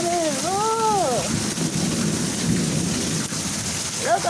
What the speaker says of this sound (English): You see how bad the rain is?